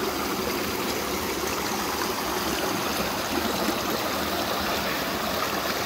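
A small waterfall spilling into a stream on a countryside walk, the water stained orange, gives a steady, dense rushing and splashing roar that stays close and unbroken, with no voices.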